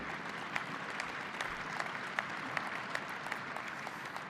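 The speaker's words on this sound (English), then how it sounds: "Let's give big applause to him." Audience applause at a European conservative party gathering, greeting the newly elected Finnish president Alexander Stubb: steady, dense clapping from a large crowd, heard from a distance at moderate-to-low level, sustained throughout with no talk over it.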